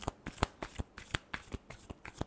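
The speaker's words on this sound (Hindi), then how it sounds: "Last shuffle." A deck of tarot cards is shuffled by hand up close, making about a dozen quick, papery flicks in a steady, slightly uneven rhythm, with no voice over them.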